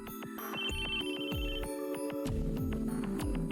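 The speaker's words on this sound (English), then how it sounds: "The sudden ringing of my phone startled me." A phone ringtone in the visual novel game Chaos;Head NOAH chimes with a bright electronic melody, steady and up front, and no voices sound over it.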